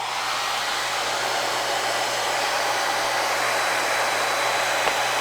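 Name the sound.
hair dryer blowing air into a tube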